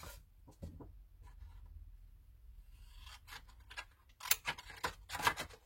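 Scissors snipping through paper or card being cut into strips for embellishment crafts, a series of short crisp cuts growing louder and quicker toward the end, close by with no talking.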